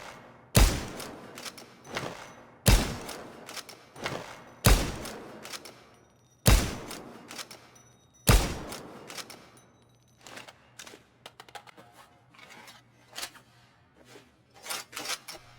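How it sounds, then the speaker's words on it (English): Five heavy, booming DESERTFOX sniper rifle shots in the video game Payday 2, spaced about two seconds apart with bolt and reload clicks between, then a run of lighter mechanical clatter and handling noises, loud and without speech. "And last but not least, the DESERTFOX sniper rifle."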